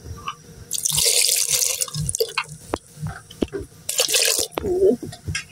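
Water pours in short bursts into a pot, splashing loudly, with clanks and small knocks of cookware between pours.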